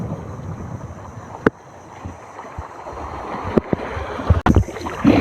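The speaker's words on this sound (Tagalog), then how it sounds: "Saka medyo malakas na ang hangin." Strong wind buffets a small fishing boat out on the water, making a steady low rumble of gusts with occasional sharp knocks and clatters from the boat.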